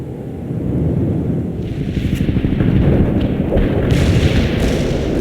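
An artillery barrage in a war video game, a dense, continuous low rumble of explosions and heavy thuds that builds slightly in loudness, with no distinct gaps between blasts.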